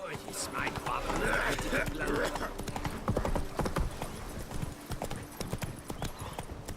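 Horse hooves clip-clopping at a brisk pace in the video game The Witcher 3, a rapid rhythmic clatter running throughout with a brief whinny and a voice talking over it.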